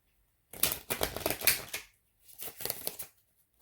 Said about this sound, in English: I'm gonna go ahead and shuffle this again.